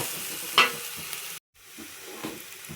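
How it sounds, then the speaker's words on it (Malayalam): Ginger garlic paste sautéing in a hot pan with green chilies for butter chicken, a steady soft sizzle with a sharp stirring scrape near the start and a brief drop to near silence midway. "ഇഞ്ചി വെളുത്തുള്ളി പേസ്റ്റ് ഇടാം. ഇതിൻ്റെ പച്ച മണം മാറും വരെ വഴറ്റി കൊടുക്കാം."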